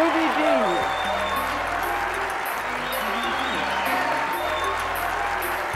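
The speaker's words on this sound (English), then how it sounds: "Please give a warm round of applause for Ossie Davis and Ruby D." An audience applauds to welcome two stage and screen actors at an event, a steady sustained round of clapping that fills the room, with a voice speaking faintly beneath it.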